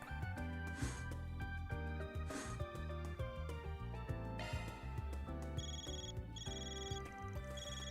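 A phone in the video game Trails through Daybreak rings with a repeating electronic melody that sits over the game's layered music and carries on steadily throughout.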